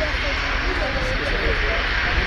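A clean, unloaded military jet taxis past at an airshow, its engine producing a loud steady roar and hiss that fills the whole stretch without breaks.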